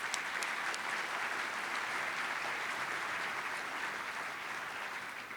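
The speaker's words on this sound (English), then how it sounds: "Let's give them a round of applause." Audience applause at a chamber of commerce annual meeting and awards breakfast, a dense, sustained wash of many hands clapping at an even level throughout.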